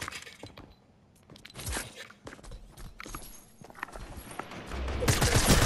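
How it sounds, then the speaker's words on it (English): Loud blasts and crashing impacts from a shotgun in the video game Fortnite, several sharp bursts scattered across the stretch and building to a dense, loud final volley. "No, it's a shotgun."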